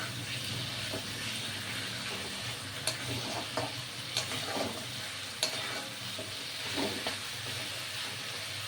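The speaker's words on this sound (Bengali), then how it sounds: "হ্যাঁ, এটা কষানো হচ্ছে।" Spice paste of dry chilli, ginger, onion and garlic frying with tiger prawns in a pan for a Bengali malai curry, a faint steady sizzle broken by occasional soft scrapes and taps of stirring, no talk.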